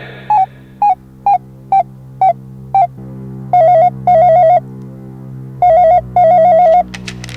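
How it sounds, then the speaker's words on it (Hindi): An electronic phone ringtone plays loud and close: a run of short evenly spaced beeps, then longer warbling trills repeating in pairs. "ठीक है कंप्यूटर जी, नब्बू जी के मित्र शाहरुख जी को फोन मिलाया जाए"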